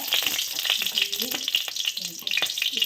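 Nigella seeds sizzle and crackle in hot oil in a wok (kadai), a dense steady frying hiss with scattered sharp pops and faint stirring scrapes throughout.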